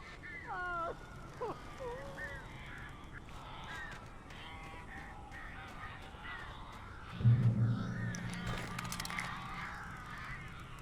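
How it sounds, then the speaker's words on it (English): Crows in the video game Alan Wake give a quick burst of harsh caws at the start, then fade behind a low ambient game soundscape before a heavy rumble swells near the end. "These birds are weird."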